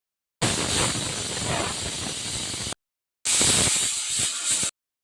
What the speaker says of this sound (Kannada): Cooker whistle ತೆಗೆಯೋಣ.